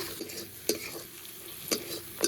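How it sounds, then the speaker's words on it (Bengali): Pre-fried potatoes stirred and sautéed with spice paste in a pan for fish roe curry, a steady sizzle under a few sharp metallic spoon scrapes against the pan, close and alone. "আগে থেকে ভেজে রাখা আলুগুলো দিয়ে দেবো আলুগুলো দিয়ে মশলার সঙ্গে খুব ভালো করে একটু কষিয়ে নেব"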